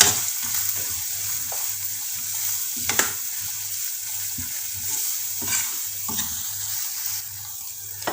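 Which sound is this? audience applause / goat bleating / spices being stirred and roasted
spices being stirred and roasted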